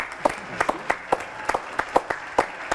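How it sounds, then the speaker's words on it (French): Sparse, distinct hand claps from a small studio audience on a French television talk show, an irregular series of sharp nearby claps. "Applaudissements."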